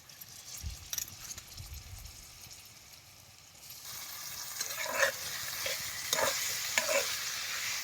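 Green peas fry in oil for a chicken keema, starting with soft sizzling and a few low knocks, then turning into louder, busier frying with spoon scrapes and clinks as they are stirred.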